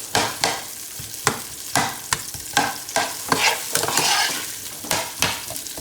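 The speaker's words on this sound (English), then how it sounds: "So we're gonna saute that until all my onions starts opening up." Onions sautéed in a pan over high heat: a steady sizzle of frying, broken by regular sharp scrapes and pushes of a spatula, close and loud, with no talking.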